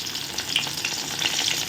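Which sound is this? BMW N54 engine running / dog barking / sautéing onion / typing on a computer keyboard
sautéing onion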